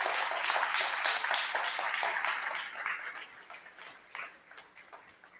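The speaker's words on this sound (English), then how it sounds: "if we can give a round of applause to my mentor" Applause at a ribbon cutting ceremony for Furley, a dense patter of clapping that starts full and steadily thins and fades toward the end, with no talk over it.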